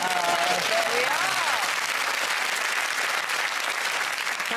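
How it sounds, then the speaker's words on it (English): A studio audience, mostly women, claps steadily and fairly loudly, with a few voices chattering over the start of the applause. "Can I say, only women applauding there."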